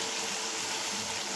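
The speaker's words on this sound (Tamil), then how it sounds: "இந்த ஸ்டேஜில் கொஞ்சம் புளி கரைச்சல் வச்சுருக்கேன், அதை ஊற்றிக்கலாம்" Tamarind water poured into a hot pan, a steady close rush of liquid filling the whole brief moment without pause.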